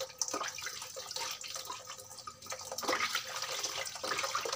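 Tap water runs and splashes while vegetables such as taro and broccoli are washed in a sink, a soft, continuous trickle with small splashes and drips, fairly quiet and without speech.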